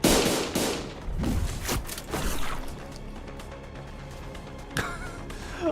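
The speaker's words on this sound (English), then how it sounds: "A loud explosion left Don Quixote dismembered where she stood." A loud explosion in the video game Limbus Company, a broadband burst up front followed by several sharp impacts and a lingering rumble, with a couple of later cracks fading out.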